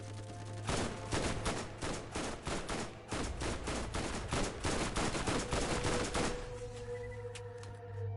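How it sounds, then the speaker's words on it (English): Enemy gunfire in Borderlands: loud, sustained automatic shooting as dense rapid bursts for most of the stretch, a steady low hum beneath, then thinning to quieter scattered shots at the end. "you're a little far away to be shooting at me"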